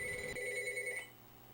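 An old-style telephone bell rings in an audio drama, a bright sustained trill that stops abruptly partway through, leaving a faint hum behind.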